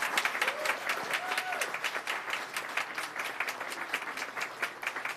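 Sustained applause rises from the audience at a county school board regular meeting, steady, crisp clapping throughout, with brief voices faintly audible underneath.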